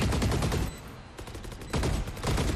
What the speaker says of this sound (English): Stray shots, sending in the bullets.